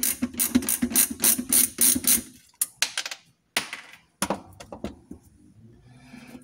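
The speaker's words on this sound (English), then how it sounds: "if you guys ever come up with one of these nice little ratcheting screwdrivers, they sure work great" A ratcheting screwdriver clicks in quick, rhythmic bursts while unscrewing a ZD-915 vacuum pump de-solder station, followed by scattered clunks and taps of small parts being handled nearby.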